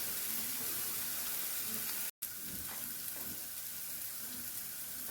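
Food sauteing in a pan for shrimp and grits, giving a steady, broad sizzle that runs throughout with a brief cut, plus faint stirring noises close by.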